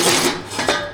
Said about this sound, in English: Little deburr action in here.